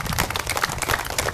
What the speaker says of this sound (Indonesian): tepuk tangan dulu untuk Ibu Megawati